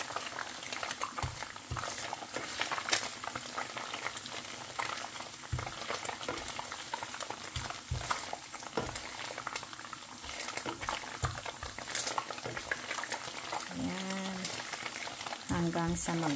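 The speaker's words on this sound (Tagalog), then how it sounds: "nagmamantika na po ang ating coconut milk" Coconut milk boils down into oil for latik to top biko, bubbling and popping steadily up close for the whole stretch, with a brief tonal voice-like sound near the end.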